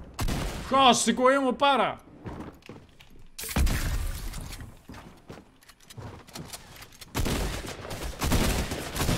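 Rapid bursts of gunfire in a Fortnite match crackle through loud, excited speech from a player, with dense clattering shots and mechanical clicks filling the later part.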